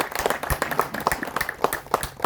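Brief burst of audience clapping for Mansukh bhai, a dense patter of many hands close by that runs for a couple of seconds without a clear voice over it.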